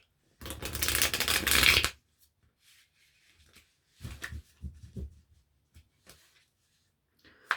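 Tarot cards riffle in a quick close shuffle, followed after a pause by a scatter of soft slaps and flicks as single cards are drawn and laid down in a quiet room.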